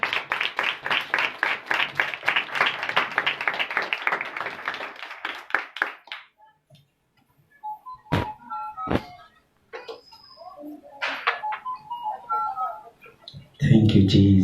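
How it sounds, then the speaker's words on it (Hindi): A church congregation claps in a quick, rhythmic burst for about six seconds, then falls quiet apart from a few scattered claps, clicks and a closing thump. "जोरदार तालियां बजाएं।"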